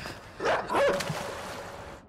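Dog barks and yips in a Hindi-language video game chase with three dogs, a couple of short close yelps in quick succession with a faint tonal whine after, no talk over them.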